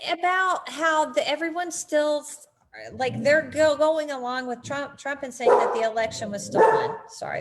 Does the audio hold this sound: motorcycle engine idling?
no